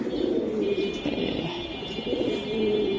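Silver Giribaz pigeons give soft, low cooing calls, repeated gently and fairly faint, with occasional light chirps and no talking.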